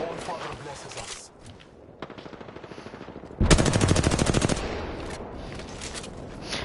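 Apex Legends gunfire, starting with a steady rapid burst of automatic shots and then a louder, denser volley up close, with talk and game sounds around it.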